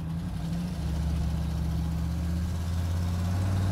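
A car engine runs steadily with a low, even drone through the whole stretch, its pitch holding with only slight shifts as the transmission is tested after fitting a Lokar throttle pedal, throttle cable and kickdown cable. No voices.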